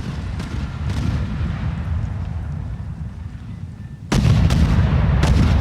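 Mortar and artillery fire in a game battle between French and British forces at Nicosia, heard as a continuous low rumbling barrage with sharp booms, growing louder and denser near the end.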